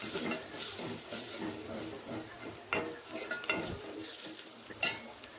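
Onions and aromatics are sautéed in oil for a quick biryani gravy, a soft sizzle under repeated spoon scrapes and knocks against the pan, close with occasional sharper clinks.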